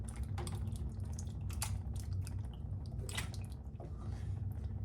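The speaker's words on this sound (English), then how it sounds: "Next, we're adding our chopped tomatoes." Undrained diced tomatoes plop and squish wetly into a pan of chili with pinto beans, soft liquid splashes and drips close up and fairly quiet.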